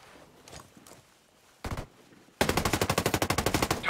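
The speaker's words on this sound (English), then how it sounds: "I'm hearing enemy fire." Enemy gunfire in the video game Ghost Recon Breakpoint: a few soft distant shots, a short loud burst, then sustained rapid automatic fire that is loud and close, with no talking.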